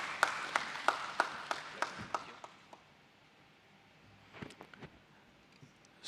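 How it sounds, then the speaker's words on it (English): An audience at a stock exchange listing ceremony claps in a short burst of scattered, distinct claps that thins out quickly, followed by a few faint taps in a quiet hall. "Let's have a huge round of applause for him"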